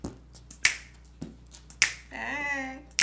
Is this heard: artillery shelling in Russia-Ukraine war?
no